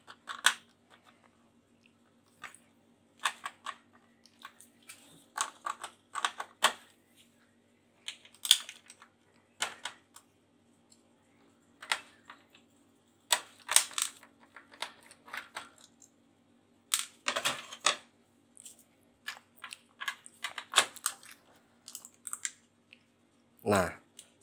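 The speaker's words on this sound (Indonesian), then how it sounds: "Di sini ada 2 buah baut yang kita harus lepas." Two screws come out of an Epson inkjet printer during partial disassembly, heard as sparse, close, crisp clicks and small scraping taps separated by near silence.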